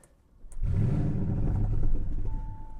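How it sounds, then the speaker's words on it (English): A 750 HP Audi RS6 twin-turbo V8 cranks and roars to life, settling into a deep, rumbling idle, close and loud. "Let's go ahead and fire up that twin turbo V8."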